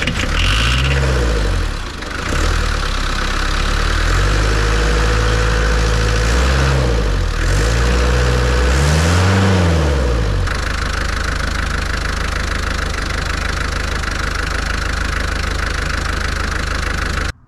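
A Land Rover Series 3 engine cranks and catches several times, then settles into a loud steady idle close by.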